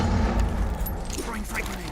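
Metallic clicks and rattles of a magazine being swapped during a Rainbow Six Siege ranked match, close and fairly loud for about two seconds over a steady low rumble of game ambience, with a voice murmuring underneath.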